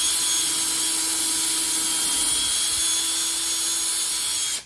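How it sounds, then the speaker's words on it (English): A power drill bores a hole in wood held in an angle clamp, giving a steady, close, high-pitched whine that runs unbroken for several seconds before stopping abruptly. "So I'm just going to drill a quick hole."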